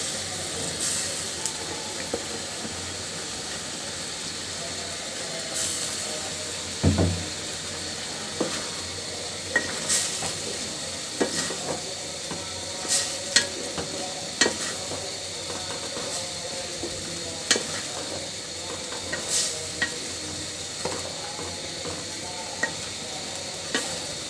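Fish cooks under a lid in a pan, giving a low steady sizzle with intermittent clinks and scrapes of stirring scattered throughout, close but moderate in level, with no talking.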